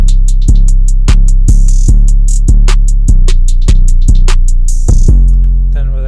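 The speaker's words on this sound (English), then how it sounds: "808." A loud, booming 808 bass sample in an FL Studio trap beat plays a series of deep sustained notes in a steady rhythm, layered with crisp hi-hats and other drum hits.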